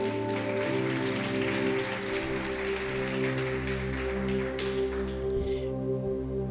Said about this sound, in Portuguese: Aplauda o Senhor por esta palavra.